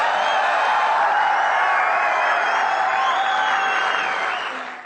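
Large seminar audience applauding loudly and continuously, a thick even wash of clapping with faint cheers, fading slightly at the end.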